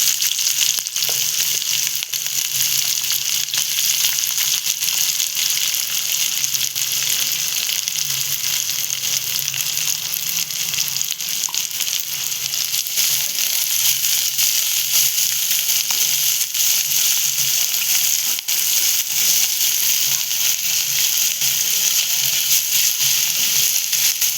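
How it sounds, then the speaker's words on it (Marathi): Finely chopped onion sautés in a pan for a monsoon-style birde bhaji, producing a loud, continuous close sizzle with occasional stirring scrapes throughout. "त्यात आपण कांद्याला परतवून घेऊया मस्तपैकी"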